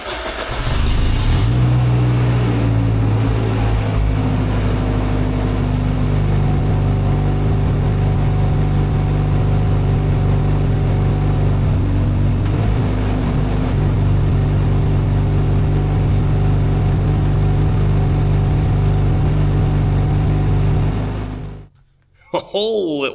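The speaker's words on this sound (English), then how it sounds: "Now let's try this rotation motor." A salvaged man-lift's rebuilt hydraulic rotation motor runs steadily with a droning mechanical hum and whine for about twenty seconds, loud and close, before cutting off abruptly near the end.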